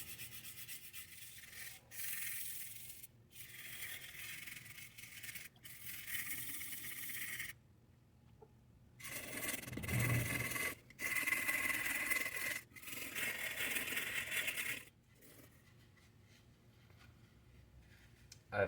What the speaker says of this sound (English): just rubbing it down with a little brass brush so it doesn't scar up or scratch the metal too much